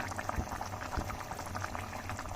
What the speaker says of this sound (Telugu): ఈ చిల్లీ చికెన్ సిమ్ పెట్టినాను, ఆ ఫ్లేమ్ మీద అయితే బాయిల్ అవుతుంది